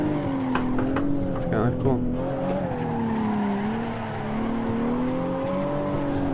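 A BMW 1M drifts through a turn, its engine holding a loud, wavering whine while the tires squeal, and the pitch rises and dips with the slide; a voice speaks briefly near the start.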